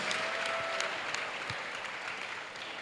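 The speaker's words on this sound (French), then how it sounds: "Acclamez. Let us clap." A church congregation clapping during a salvation and healing weekend service in Port-Bouët, a steady wash of many hands heard fairly faint and distant, with a few sharper individual claps standing out.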